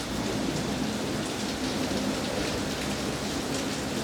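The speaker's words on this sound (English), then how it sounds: "And yes, that is rain you can hear." Steady rain pours during a storm at Epcot, Walt Disney World, a dense, even hiss of drops on surfaces that continues unbroken and fairly loud throughout.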